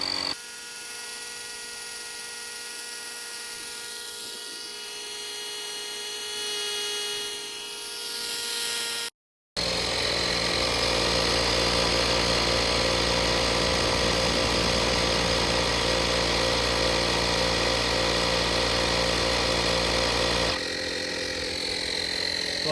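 Harbor Freight and ETENWOLF portable tire inflators running, first one compressor humming with a steady tonal whine, then after a brief cut a louder, harsher buzzing motor drone that holds steady and shifts slightly near the end.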